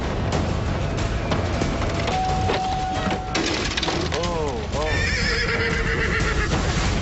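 A horse whinnies with a rising, wavering cry in a video game, amid busy game sounds and music, with voices talking over it throughout.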